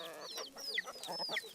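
Chickens clucking close by, a quick run of short, rising squawks and clucks over a quiet background.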